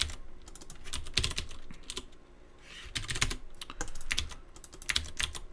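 Someone typing on a computer keyboard, quick bursts of close key clicks broken by short pauses, with no talking.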